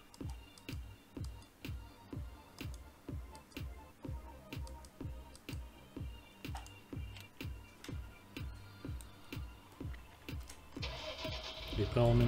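A small tractor engine in the farming video game Farming Simulator 19 chugs with a steady, even rhythm of regular thumps, close and constant, rising in loudness near the end as a brighter hiss joins.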